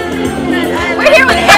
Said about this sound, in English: So over here we have a huge crowd, a lot of energy going on